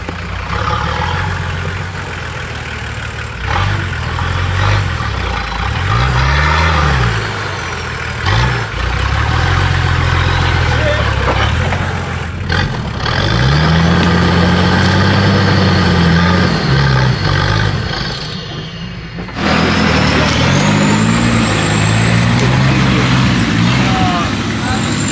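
Engine of a 4x4 trial off-road vehicle rumbling continuously at close range, with revs rising and falling in repeated surges, while people talk over it.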